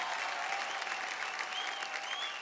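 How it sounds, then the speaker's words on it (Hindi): A studio audience on a Hindi game show applauds contestant Prachi, giving a dense, even burst of clapping that holds steady throughout. "जोरदार तालियां प्राची जी के लिए"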